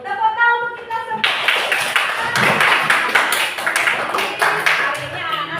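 A brief adult voice, then a class of children clapping together, a lively run of rapid claps filling the classroom.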